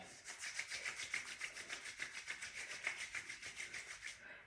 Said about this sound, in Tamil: அதை அப்படியே நீங்கள் நல்லா இந்த ஹேரில் வந்து அப்படியே ரப் பண்ணிடலாம்.